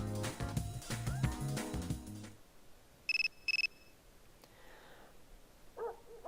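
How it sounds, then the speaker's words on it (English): A phone rings in the Persona 3 FES video game: two short, bright electronic ring bursts that follow a stretch of game music and come alone, with a faint tone near the end. "Another phone call."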